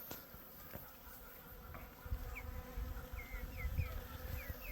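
Steady buzzing of many bees close at hand in a small corn field, a continuous droning hum that swells slightly toward the end, with faint chirps behind it.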